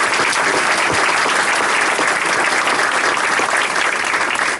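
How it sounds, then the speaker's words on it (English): An audience breaks into sustained, dense applause, a loud and even wash of many hands clapping without pause throughout. "Join me in applauding."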